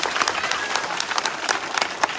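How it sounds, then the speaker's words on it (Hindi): An audience claps warmly at a school inauguration ceremony during a trophy presentation, an even patter of many hands close by through the brief moment. "इस बहन के लिए तालियां बजाइए"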